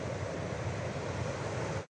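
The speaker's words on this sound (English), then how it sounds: "look at the waves today. The waves are big today" Big ocean waves break on the beach at high tide at Ballito on the coast, a steady, faint wash of surf with no voices, cutting off abruptly at the end.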